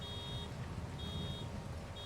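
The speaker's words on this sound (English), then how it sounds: "Nice little alarm plays." In the Farming Simulator 22 video game, a baler alarm sounds as repeated steady high beeps. They ring out about every half second over a loud, constant rumble of machinery.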